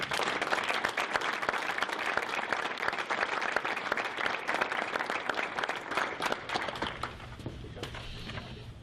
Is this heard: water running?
no